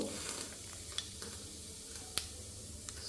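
Cumin seeds sizzle in hot oil for rasam, a soft, steady frying hiss punctuated by a few sharp clicks and taps of stirring, close by and with no talking.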